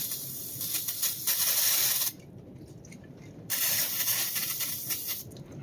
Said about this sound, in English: I've got some trusty brake clean